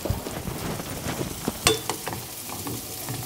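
Potatoes frying in a pan get stirred, with a steady soft sizzle broken by scattered scraping clicks of a utensil, close and fairly quiet with no talking.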